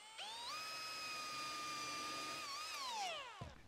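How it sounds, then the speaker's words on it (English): Power drill boring a pilot hole into wood for a modern desk with a pre-drill and countersink bit, a steady high whine that spins up, holds for about three seconds, then winds down, close and clear. "Now I can use a pre-drill and countersink"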